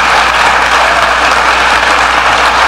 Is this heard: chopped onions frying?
no